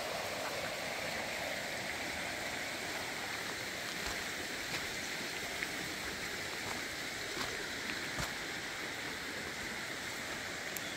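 A creek flows steadily past a forest campsite in the rain, a soft, even rushing wash of water with faint scattered drips and ticks, distant and unbroken.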